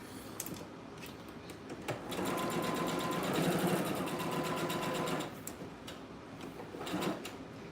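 A sewing machine stitches fabric on a zigzag setting, its fast, steady mechanical whir running for about three seconds, with a clack of handling before and after.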